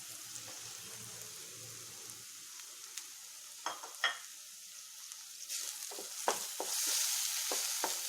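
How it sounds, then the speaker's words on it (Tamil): Masala spice powders of chilli, garam masala, coriander and turmeric frying in oil in a pan for a paneer coconut milk gravy: a soft steady sizzle with a few stirring scrapes and clinks, growing louder near the end. "இது லைட்டாக வணக்கி விட்டுட்டு பச்சை ஸ்மெல் போகட்டும்."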